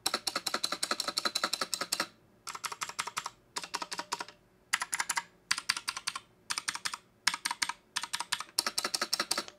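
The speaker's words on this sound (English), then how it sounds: "you can tell these are some cheap blue switches" Typing on a MageGee MK-Mini 60% mechanical keyboard with cheap blue switches produces rapid, crisp clicky bursts in several runs separated by short pauses, close and fairly loud with no talking.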